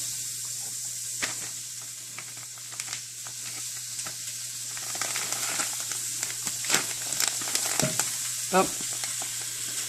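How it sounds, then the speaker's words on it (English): Sausage, potatoes and eggs sizzling in a skillet, a close steady crackling fry with sharp pops and stirring scrapes, and a brief exclamation from a voice. "Hear that sizzle?"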